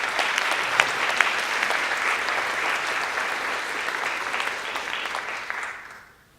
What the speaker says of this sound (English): I think that deserves a round of applause for these young people